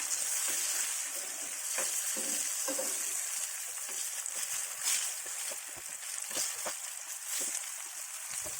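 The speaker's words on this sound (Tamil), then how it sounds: "வாழைக்காய் ஒரு சைடு நல்லா ஃப்ரை ஆகிருக்கு." Raw plantain slices sizzle and crackle steadily in a frying pan, a dense, close hiss with scattered pops and small spatters running throughout.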